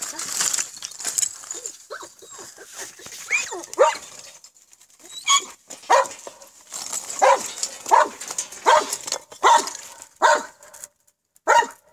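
A dog barks repeatedly in sharp, irregular bursts during an urban search and rescue drill, with occasional yips and whimpers, fairly close, and brief voices in the background.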